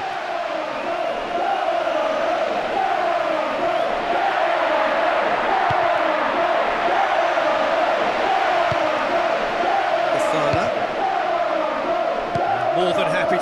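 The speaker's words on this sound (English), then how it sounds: "Crowd calling for him to shoot." Stadium crowd in the PES 6 football video game roars and chants steadily, calling for a shot, a dense continuous wash of voices at moderate level with a commentator's voice over it.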